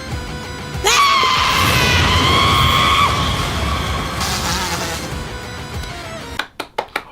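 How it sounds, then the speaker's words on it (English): A character in the King-Ohger TV series lets out a long, loud, sustained scream of several seconds, trailing off and followed by a few sharp crashing hits. "Rita also screams when things don't go their way."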